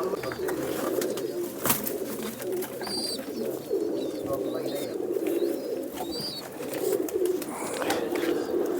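An old pet pigeon coos softly in a loft, with low murmuring coos repeating over a steady background hum and faint chirps.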